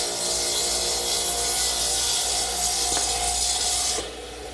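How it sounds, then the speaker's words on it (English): A table saw cuts through a wooden table leg guided by a jig, giving a steady loud whining hiss with a grinding rasp underneath that drops away as the blade clears the wood near the end. "I'm just going to slide my jig to the other side of the saw blade and make the other cut."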